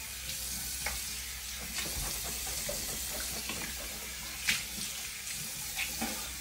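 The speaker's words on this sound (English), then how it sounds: "Rinse your mouth out." Running tap water splashes steadily in a bathroom sink as a mouth is rinsed after teeth whitening, with a continuous close hiss and a few small splashes and knocks throughout.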